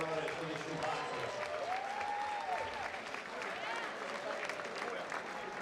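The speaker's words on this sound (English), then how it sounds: "how about a round of applause?" At a 220-pound boxing bout, a crowd applauds the two fighters with steady, dense clapping and cheering that fills the whole stretch, while an announcer's voice carries over it.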